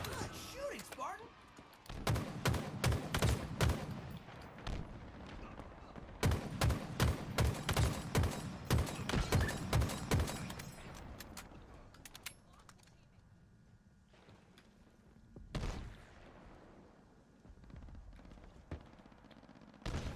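Rapid bursts of automatic gunfire from the Halo video game crackle in two dense volleys, followed by scattered single shots and quieter ambient game noise.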